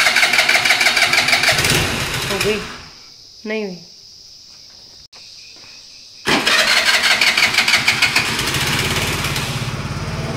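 Motorbike engine starts with a loud rattling idle, cuts out into near silence where someone speaks briefly, then fires up again and settles into a steady close idle.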